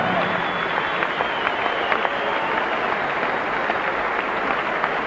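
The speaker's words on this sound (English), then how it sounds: "a round of applause for both champion and challenger in this brilliant super middleweight championship bout" Audience applause for the champion and challenger after a WBC super middleweight championship boxing bout: a dense, steady wash of clapping and crowd noise filling the arena for the whole stretch.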